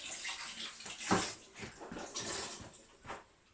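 Tap water runs onto a kitchen sponge as it is wetted for cleaning, a quiet hiss and splash with a few louder gushes as the sponge is moved under the stream, no talking.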